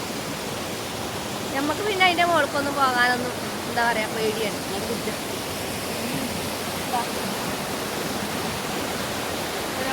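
Steady broadband rush of river water pouring over rocks fills the whole stretch, loud and close, while people talk over it for the first few seconds.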